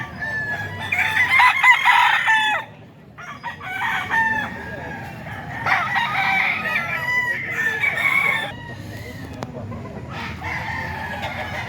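Several roosters at a cockerel sale crow loudly in overlapping calls, with strained crows rising and breaking off across the scene and clucking and faint voices underneath.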